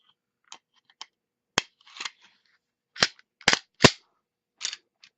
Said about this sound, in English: I'm going to put the barrel back in, the recoil assembly back in, and then put the lower back on